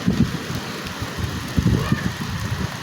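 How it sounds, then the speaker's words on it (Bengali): Rain falling outdoors during the first rain of the season: a dense, steady hiss of drops with some low rumbling wind noise on the microphone, close and continuous, without talk. "বৃষ্টিটা আগে দেখায় কত সুন্দর বৃষ্টি হচ্ছে"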